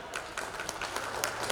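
An audience at an exhibition inauguration applauds to thank the core team, giving a steady spread of many hands clapping at moderate distance.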